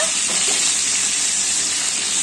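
Stuffed brinjals frying in oil, a loud, close, continuous sizzle with a hissing, bubbling texture that stays even and unbroken.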